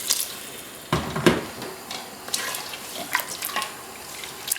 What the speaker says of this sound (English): just cover the lamb with enough water, about 4 cups of water